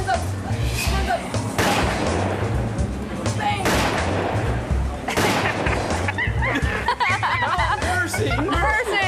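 Bursts of gunfire ring out several times in a shootout between a chimpanzee and its owner, with excited chatter and crowd noise underneath throughout.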